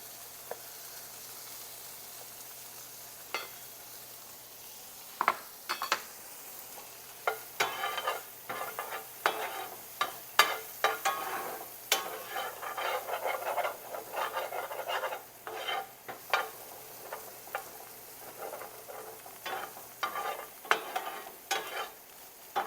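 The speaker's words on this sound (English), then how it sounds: "Alright, just a quick saute." Finely diced jalapeno slices sauteing in a pan, with a quiet steady sizzle beneath irregular bursts of stirring scrapes and clatters, close and moderately loud with no talking.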